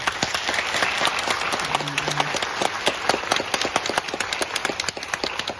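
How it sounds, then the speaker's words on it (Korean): A congregation at a Catholic church Mass applauds parents and family, a dense steady clapping that fills the space without a break from start to finish, close and fairly loud. "우리 두 분 부모님 그리고 가족들 정말 감사와 축하 박수 부탁드립니다"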